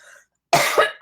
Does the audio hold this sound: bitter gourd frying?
no